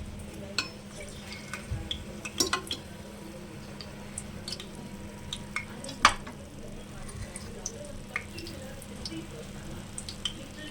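Faint sizzling of spices frying in hot oil in a pan for a tomato bath recipe, with occasional stirring clinks and soft utensil taps against the pan.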